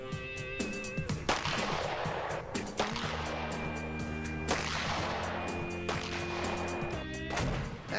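A 9mm pistol fires repeatedly at a target about 14 feet away: sharp, loud shots spaced irregularly, with ringing tones hanging between them and no talking.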